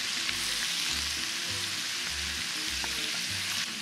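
Noodles being stirred in a pan with oil, pepper, seasoning and broth, giving a steady close sizzle throughout with soft scraping stirs, no talking.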